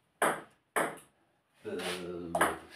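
A table tennis ball is struck during a competitive rally, giving two sharp, close knocks about half a second apart, followed by a voice speaking.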